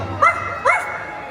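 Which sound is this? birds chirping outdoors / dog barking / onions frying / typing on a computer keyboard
dog barking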